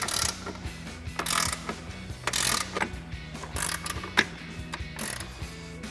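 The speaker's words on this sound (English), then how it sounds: "So we'll get an 18mm ratchet wrench on these." Repeated clicking of an 18mm ratchet wrench working on flag bolts of a 2011-2019 rear-wheel-drive Dodge Charger front control arm, rapid metallic ratcheting strokes in uneven bursts, close and clear with no talking.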